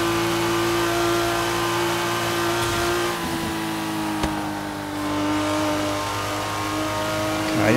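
Sports car engine in the Forza Horizon 3 racing game, a steady loud droning rev that dips briefly and then climbs again, with a faint tire squeal partway through and no voices.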